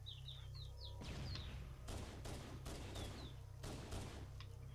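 Gunfire in the Halo: Combat Evolved Anniversary video game, several loud bursts of rapid shots in quick succession, with chirping alien-bird-like calls at the start over a constant low hum.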